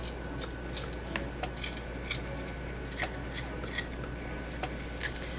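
Fresh ginger has its skin scraped off in quiet, repeated short scratches that come in an uneven rhythm over a low steady background hum.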